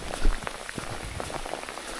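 A short stream flowing near a lakeside path while out fishing for trout in the hills; a steady, close babble and trickle of water with light splashes, alone without talk.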